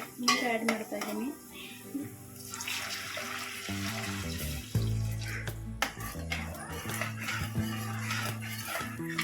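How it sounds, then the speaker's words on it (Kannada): Water is poured into a pan of boiling seasoning while soft upma is being cooked, a brief splashing rush alongside clinking pots and stirring, all under steady background music. "ಇವಾಗ ನೀರು ಆ್ಯಡ್ ಮಾಡ್ತಾ ಇದ್ದೀನಿ."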